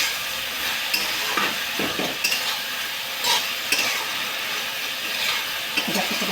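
Flat spatula scraping and stirring dry eggplant bhaji in a pan, with irregular scrapes over a soft steady sizzle, close and moderately loud, no voices.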